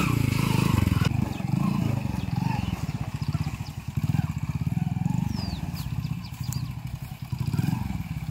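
Modified Hero Honda Splendor motorcycle riding along, its steady engine putter close and continuous with road noise and rattles.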